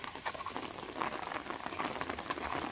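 Rain falls steadily on a village in Tegalombo, Batang, Central Java at the start of the rainy season, a dense close hiss of drops pattering on surfaces with no break and no voices.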